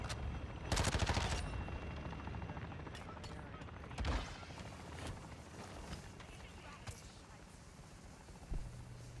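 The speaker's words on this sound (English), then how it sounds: "That was a good shot from him." Gunfire in the Call of Duty DMZ video game on Ashika Island, a burst of loud rapid shots near the start, then single sharp cracks around four and eight and a half seconds, with players talking over the game noise.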